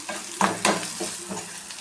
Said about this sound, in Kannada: ಒಂದು ಸ್ಪೂನ್ ಮೆಣಸಿನ ತೊಗೊಂಡಿದ್ದೆ ನಾನು ನೋಡಿ ಅದನ್ನು ಕೂಡ ಎಣ್ಣೆಲೆ ಫ್ರೈ ಮಾಡ್ಕೊತಾ ಇದ್ದೀನಿ